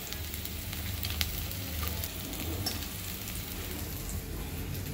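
Asafoetida hitting hot oil for a tempering of ginger and hing, later mixed with gram flour in yogurt or buttermilk, gives a steady close sizzle that runs evenly with a faint crackle and no talk.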